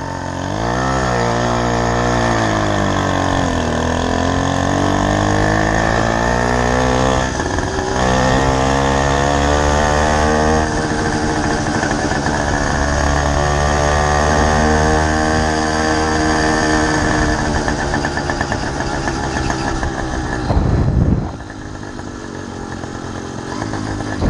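A small Chinese 'dongó' motorised bicycle engine runs continuously up close, a loud buzzing two-stroke-style drone that climbs and falls in pitch as the throttle changes, cutting briefly near the end before picking up again.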